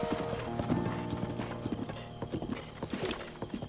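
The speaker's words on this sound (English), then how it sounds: "Alright, ride onto the horse." Horse hooves clip-clop in steady rhythm as a mount is ridden across open ground in Zelda: Breath of the Wild, close and clear, with a brief whinny-like layer and no talk.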